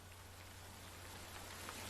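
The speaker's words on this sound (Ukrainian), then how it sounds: "Стукіт крапельок дощу також відноситься до шумових звуків." Rain patters steadily on a surface, a soft, even hiss of many small droplets tapping without pause, faint and continuous over a low background hum, with no voices.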